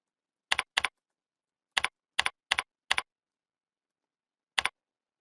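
Short bursts of key presses on a computer keyboard while a folder name is typed, crisp double clicks in small clusters separated by silence, close and fairly quiet.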